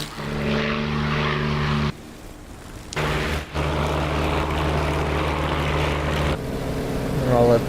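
A WWII propeller fighter in a DCS flight simulator drones steadily with a deep, buzzing engine tone, cutting out briefly a couple of times before resuming, loud and continuous with no speech.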